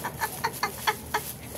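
A chicken clucking close by in a run of short, evenly spaced clucks, about seven in under two seconds, moderately loud over a soft background hiss.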